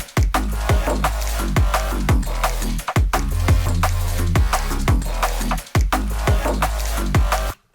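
Processed, layered Vital synth bass in a drum and bass beat: dense, full low end under sharp, regular kick and snare hits, loud and continuous with brief drops at bar turns, no voices.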